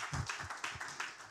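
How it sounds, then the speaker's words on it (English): A conference audience at a tech talk gives a brief, fairly faint round of clapping, a few uneven bursts of hand claps lasting about a second. "Actually, I didn't expect applause"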